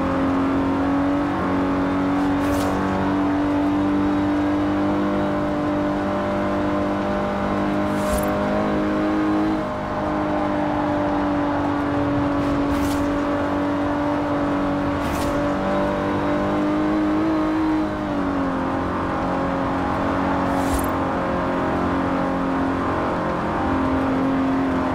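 A 1960s Aston Martin DB5 Vantage grand tourer with side draft carburettors, driven in Forza Horizon 4, holds a loud sustained engine drone whose pitch climbs and dips with gear changes and revs.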